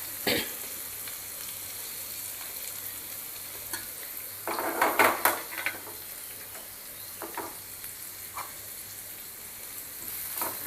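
Onion and cumin frying in a pan for Maharashtrian eggplant bharit: a steady, hissing sizzle with a louder crackling burst midway, then scattered stirring scrapes, with no voices.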